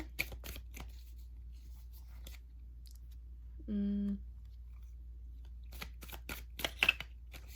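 Tarot cards are handled and shuffled during a reading, with quick crisp riffles and flicks at the start and again near the end, close by and moderately loud, with a brief hum in the middle.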